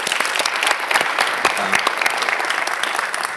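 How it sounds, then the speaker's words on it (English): Audience clapping at a business conference, a dense sustained round of applause from a crowd, fairly loud and steady throughout with no talking over it. "So a quick round of applause for EFOSA."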